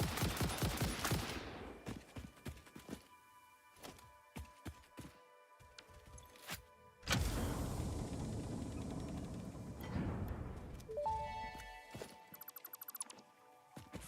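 Gunfire from a weapon in the video game Satisfactory: sharp shots in quick bursts, then a sustained rattling volley and a few scattered later shots, loud and close with no talking.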